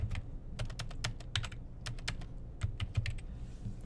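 Quick, irregular clicks from a computer keyboard as a code comment is typed, keystrokes close and crisp in uneven bursts with no voice over them.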